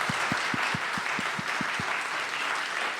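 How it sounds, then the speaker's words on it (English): An audience at a town hall on affordable arts workspaces in Asheville applauds a panel, steady clapping throughout with a few sharp, close individual claps in the first two seconds. "Let's give our panel a big round of applause"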